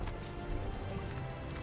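Horse hooves galloping in the video game Assassin's Creed III, a faint, muffled rhythmic thudding buried under a dense bed of game music and ambient noise.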